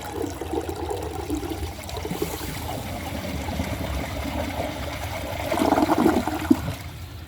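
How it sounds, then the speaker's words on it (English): A 1999 Crane Atlas toilet with a non-water-saving flapper flushes with a steady rushing gurgle of water that swells louder and splashier toward the end. "So here is a flush on a non-water saving flapper."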